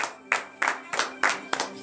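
A congregation at morning prayer claps in praise, five or six loud, evenly spaced claps in unison, close and crisp with brief decays between them.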